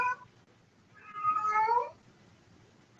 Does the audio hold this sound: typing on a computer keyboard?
no